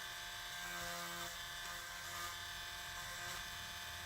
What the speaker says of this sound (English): Drill in and then check it.